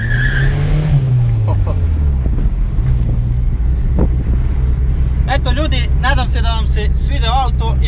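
A car engine winds down under hard braking to a full stop, ABS engaging, with a chattering, squealing tire noise near the end and voices nearby.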